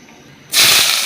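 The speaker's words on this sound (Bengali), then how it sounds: "পেঁয়াজ কুচি দিয়ে দিলাম" Chopped onion dropped into hot oil for a magur fish and radish curry sets off a sudden, loud burst of sizzling hiss that holds steady after the onset.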